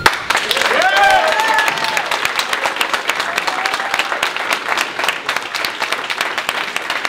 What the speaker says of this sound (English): Applause for the candidates.